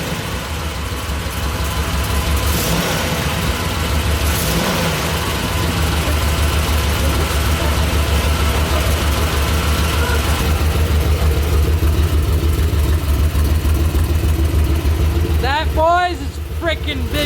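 A 1970 Corvette LT-1 V8 running steadily just after its first start in over twenty years, a loud, close, rough engine with a sticking carburetor throttle, voices talking over it.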